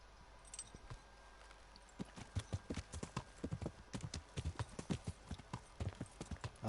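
An expensive horse in the medieval video game Kingdom Come: Deliverance clip-clops along at a walk, its hoof strikes sharp and steady and close, starting sparse and growing into a regular rhythm, with no talk over it.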